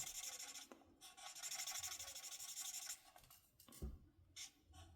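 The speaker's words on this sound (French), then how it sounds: "J'ai repris mon feutre clair. Et là, je suis venue repasser dessus." A light-colored felt-tip marker rubs back and forth over a paper card, producing soft, close scratchy strokes in several bursts separated by short pauses, quiet and alone.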